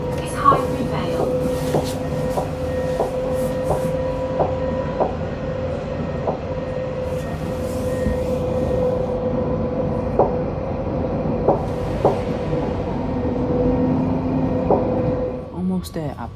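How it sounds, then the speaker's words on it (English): A Nottingham tram runs past the Bulwell Forest level crossing, giving a steady mid-loud rumble with repeated wheel clicks and tonal whine throughout, and voices speak over it. "This tram is for Nottingham."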